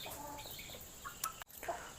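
A red-black rooster at a farm sale gives a few short, faint clucks against steady outdoor background noise, with no talking.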